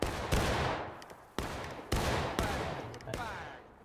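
Musket volleys crash out in War of Rights, five sharp broadband cracks spaced about half a second to a second apart, each with a long rolling decay that smears into the next, loud and close with no talk.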